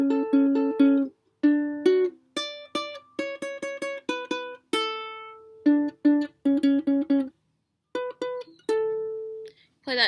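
A solo ukulele plays an opening section in clear, close plucked notes, grouped in quick phrases with brief pauses and a few longer ringing notes.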